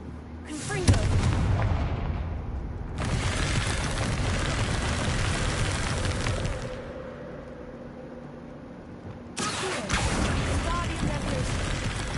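Confringo fire spell explosions burst out in Hogwarts Legacy as loud, booming blasts with crackling tails, one near the start and another late, with a quieter gap between them.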